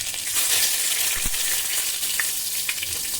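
Ingredients for chicken biryani frying in oil until reddish-brown, a steady close hiss of sizzling with faint stirring knocks and no talking.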